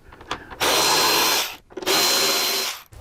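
A power tool spins out the wind deflector bolts on a motorcycle lower fairing in two loud, close bursts of whirring, each lasting about a second with a brief pause between them.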